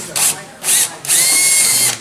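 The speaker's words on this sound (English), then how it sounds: "if I put this right in the center and drill it, I will not be touching any of the old wood, only new hole" A power drill with its bit boring into old wood runs in three bursts, two short whines followed by a longer sustained one, loud and close.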